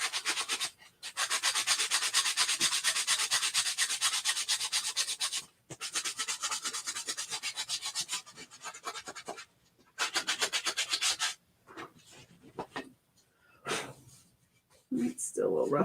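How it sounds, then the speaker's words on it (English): Sanding a rough spot on a wooden Chalk Couture reverse canvas sign, heard as close, steady rubbing strokes in long bursts with short pauses between, fading into lighter scratches near the end. "There's a little rough spot, so I'm going to sand that off real quick."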